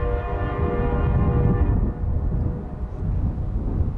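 A CSX freight train led by an SD40-3 diesel locomotive rumbles past close by, the engine droning with steady harmonic tones over deep continuous rail noise.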